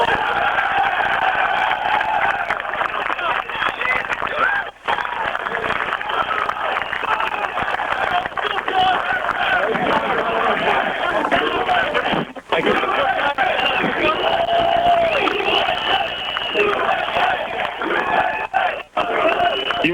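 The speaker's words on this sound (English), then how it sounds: "You can hear the chants that continue as the president climbs down off the rubble" A large crowd at the Ground Zero rubble site chants and cheers continuously for the president, a dense, loud roar of many voices with shouting and some clapping mixed in.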